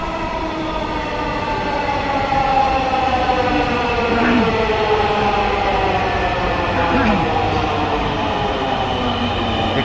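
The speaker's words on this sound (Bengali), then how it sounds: "ট্রেন চলে এসেছে আমাদের" A metro rail train pulls into a busy station with a loud continuous rumble and whining motor tones that slide in pitch, with faint crowd murmur around it.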